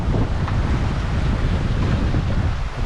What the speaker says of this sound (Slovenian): Takole izgleda zdaj, ko je začelo malo bolj pihati.